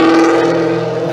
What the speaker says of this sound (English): After the race cars go by.